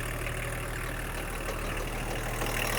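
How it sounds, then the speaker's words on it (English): A BMW E34 car engine idles steadily, a continuous close rumble with an even mechanical whir that holds at a constant level throughout, with no voices. "See if it idles."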